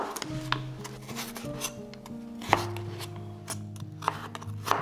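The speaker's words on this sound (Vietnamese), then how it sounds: "Sau đó cắt thành hạt lựu nhỏ như thế này ha" A knife dices a small, peeled, thinly sliced carrot on a cutting board, with a rapid run of close, crisp chops and a few sharper single knocks, heard alone.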